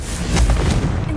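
Explosive Confringo spell from Hogwarts Legacy, a short loud booming blast with a rumbling burst, close and forceful.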